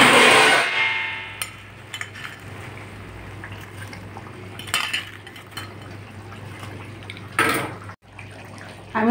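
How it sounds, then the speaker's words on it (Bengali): Raw banana koftas dropped into boiling curry gravy, a bright splash and clatter at the start, then a steady low bubbling simmer with a few scattered clinks and splashes from the pan. "ঝোলটা ফুটে গেছে, আমি এখন এই যে কোপ্তাগুলো দিয়ে দিচ্ছি"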